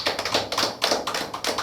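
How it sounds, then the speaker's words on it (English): Audience clapping at an online pitch event ceremony, a steady run of dense, fairly close hand claps filling the whole stretch with no one speaking over it. "Let's clap for VL and"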